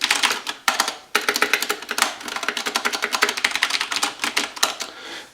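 Fast typing on a G.Skill KM570 mechanical keyboard, with dense, rapid clacking keystrokes close up, briefly pausing before resuming in steady bursts.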